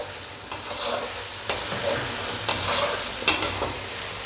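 Chicken with ginger garlic paste sizzles steadily in a karahi while being stirred, a continuous close frying hiss punctuated by several sharp scraping clinks of the spoon against the pan, with no voices.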